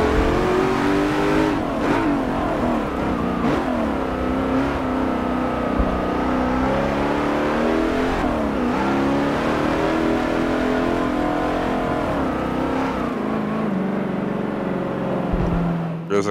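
A 1,000-horsepower car in Forza Motorsport 7 revs hard, its engine note climbing and falling through several loud, sustained surges, with the pitch swinging as gears and throttle change and no pauses.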